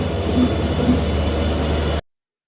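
Train pulling into Guwahati railway station on the Diphu to Guwahati route, a steady close rumble of rolling wagons and wheels with no talk, cutting off abruptly after two seconds.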